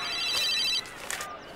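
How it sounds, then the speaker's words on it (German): A mobile phone ringtone chimes loudly and close in a bright electronic burst that cuts off after under a second, leaving quiet room tone. "Mein Handy."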